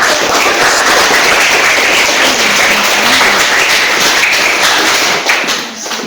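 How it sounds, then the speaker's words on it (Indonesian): Loud, dense applause from a group in a classroom fills the room, steady throughout and tapering slightly at the end. "Iya, tepuk tangan."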